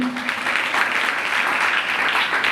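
A church congregation at a Sunday sermon claps loudly and continuously, a dense, even wash of applause that fills the whole stretch without a break.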